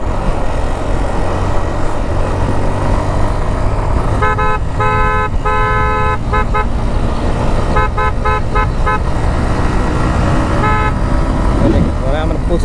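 Loud multi-tone horns honk in repeated bursts and clusters over a constant roar of wind and engine, heard from a Honda Livo motorbike riding on a busy road with other vehicles passing.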